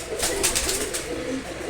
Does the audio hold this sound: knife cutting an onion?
no